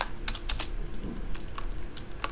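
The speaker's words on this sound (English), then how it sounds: "I'm just gonna type something." Computer keyboard typing while building a dagger reward item in a game editor: a few irregular quick keystroke clicks, close and fairly light, with short pauses between bursts and no talking.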